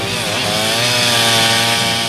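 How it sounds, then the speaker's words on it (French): Chainsaws cutting through frozen lake ice at a dam, a loud, steady high-revving engine whine that holds close and continuous with slight pitch shifts as the blade bites. "rien ne vaut quelques bonnes tronçonneuses bien aiguisées qui ont au fait de découper la masse inerte en radeaux dérivants"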